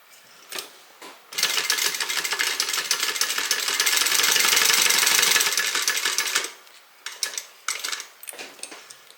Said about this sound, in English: I'm gonna go ahead and stitch.